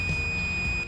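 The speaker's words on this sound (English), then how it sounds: "if the leads detect a circuit, which is basically when these touch, then you should hear a beep" A multimeter gives a steady, continuous high-pitched continuity beep as its test leads touch, sounding loud and unbroken for the whole moment.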